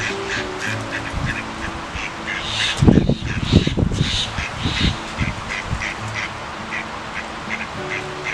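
Ducks or geese quacking and honking at a family park zoo in Qatar, a cluster of loud close calls in the middle over a steady bed of other bird chatter.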